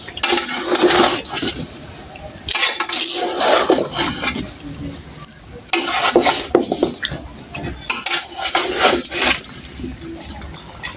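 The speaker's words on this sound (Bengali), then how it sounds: "তো এই যে এখানে কিন্তু আমার আচারগুলো নাড়াচাড়া করা হয়ে গেছে" A spoon stirs homemade pickle in a cooking pot, giving loud, uneven metallic scrapes and clanks in bursts with short pauses, and faint talk now and then.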